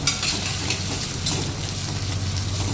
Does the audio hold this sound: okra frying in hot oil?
yes